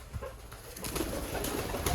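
White Indian-breed pigeons on a farm in Edmonton, Canada, giving soft low cooing amid steady farm background noise, close by and moderately loud, with no talking.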